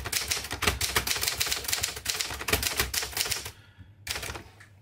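Typing on a 1958 Adler Special manual typewriter, close and crisp: rapid runs of sharp key strikes in an uneven rhythm, followed by a brief pause and a couple of final clacks.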